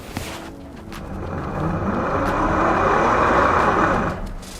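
A 2019 Honda Pilot or Toyota Highlander Hybrid AWD spins its wheels on a slip-test rig with traction control off, giving a steady, rising engine and tire drone that swells and holds before easing off, with no talk.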